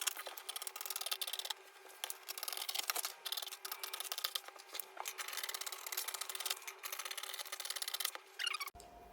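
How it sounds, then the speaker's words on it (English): Scissors cut through a paper pattern piece for an inner corset, making a steady, close, rasping snip-and-slide texture that runs almost continuously at a low level before stopping abruptly. "So next is to cut out this pattern piece. So I'll just go ahead and cut."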